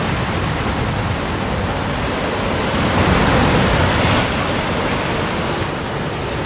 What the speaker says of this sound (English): We keep our distance from the mighty waves.